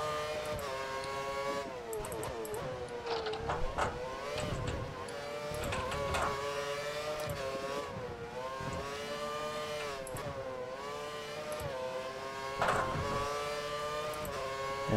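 A Formula 1 car engine in the F1 2013 game, driving a Hungary qualifying lap, screams with a steady high-pitched whine, rising and falling through gear changes, loud and continuous with no talk.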